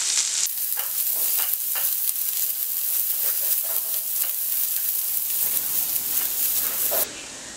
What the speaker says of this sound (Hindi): अदरक के फ्राई होने के बाद इसमें अनियन डालें और इनको थोड़ा ट्रांसपेरेंट होने तक